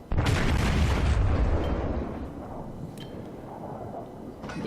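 Heavy guns of the Nagato, a tier 7 Japanese battleship in World of Warships, fire in a loud, close, booming salvo whose roar fades into a long rumbling tail, with no talk.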